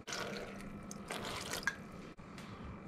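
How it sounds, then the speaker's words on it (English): Water pours from a tap into a pot of lamb dolmades, a soft continuous trickle with splashy bursts and drips, close by and fairly quiet, with a brief pause before it resumes. "Now we'll just cover them with some water, a little bit more."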